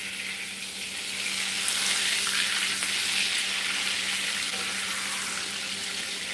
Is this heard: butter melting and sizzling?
yes